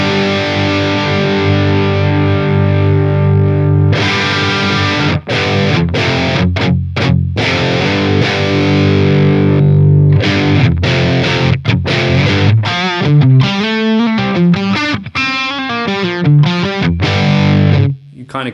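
An electric guitar plays through a Cali Rectifier amp setting, with bass all the way up. It is loud and heavily distorted, with sustained chords and then choppy, rapid palm-muted riffing.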